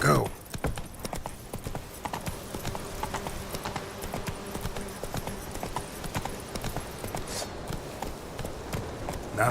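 Hooves of a horse gallop in The Witcher 3: Wild Hunt, a fast, continuous clip-clop rhythm at moderate loudness with a few brief vocal sounds mixed in.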